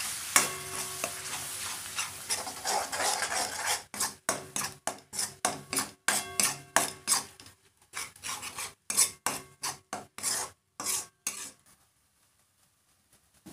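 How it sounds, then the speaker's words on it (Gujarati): A spoon stirs crushed tomatoes into Gujarati mutton dal in a pot with a faint sizzle: first a continuous scraping mix, then a run of separate, irregular scrapes and clatters against the metal, ending quietly. "આની અંદર એડ કરીશું પીસેલા ટામેટા હવે બધું સારી રીતે મિક્સ કરી લઈશું"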